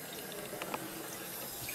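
Water trickles gently and steadily from the cooling line of a home moonshine still, a faint continuous flow with a few soft drips, no talking.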